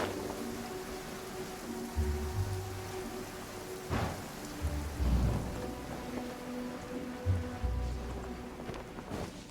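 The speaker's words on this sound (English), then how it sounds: "The sound of the rain scares them away, but once it stops, they're yours for the taking." Rain and thunder in the video game Genshin Impact: a steady wash of rainfall with deep thunder rumbles rolling in several times, and one sharp crack near the middle.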